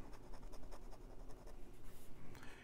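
A 1946 Parker 51 Vacumatic fountain pen with a 14 karat gold fine nib scratches steadily across paper, continuous close-up scribbling strokes with brief pauses and no speech.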